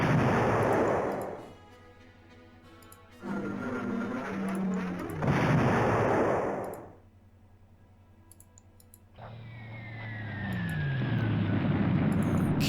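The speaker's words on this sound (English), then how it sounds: "Let's continue bombing Rostov." Bombing explosions in the WarPlan strategy game sound as loud, booming bursts that swell, fade and return, with a long rumbling blast near the end.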